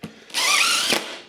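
A power drill drives a screw into sheet metal on a Model A hot rod firewall, one sustained high whine lasting well under a second, loud and close, with a short click before it.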